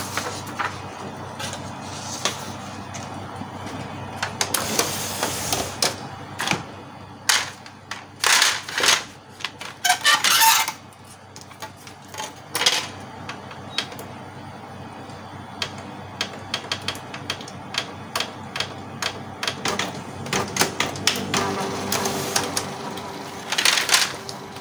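A Canon MP287 inkjet printer running a print job, giving irregular mechanical clicks, clatter and whirring bursts close by, with busier rattling passages around the middle and near the end.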